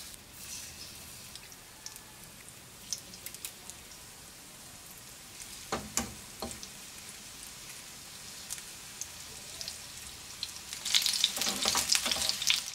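Breaded chicken frying in cooking oil over medium heat, a steady rain-like crackle of bubbling oil, with a few sharp pops midway and a louder, busier burst of sizzling near the end.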